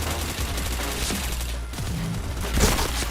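Rapid bursts of gunfire in a shooting video game, dense volleys with louder cracks near the end, continuous throughout with no voice.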